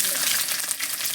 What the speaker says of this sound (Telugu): ఎర్రగడ్డలు బాగా మక్కనిద్దాం.